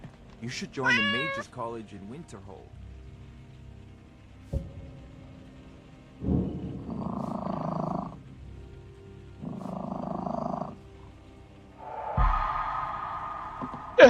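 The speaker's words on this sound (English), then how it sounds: "That's a cat." A cat meows several times in quick succession near the start inside the game Skyrim (Nolvus modlist), then a voice speaks over quiet ambient game sounds with bursts of mid-range noise.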